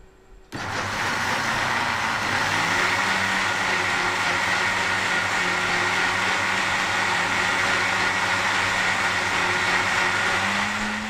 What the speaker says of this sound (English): Now we have blended the oats very well.